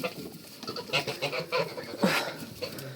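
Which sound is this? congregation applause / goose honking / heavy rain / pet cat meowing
goose honking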